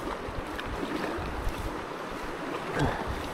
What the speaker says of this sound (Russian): Такой это перекат